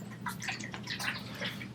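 EEG headset sponges being soaked with saline solution, giving soft irregular splashing and dripping liquid sounds at close range, with no talking.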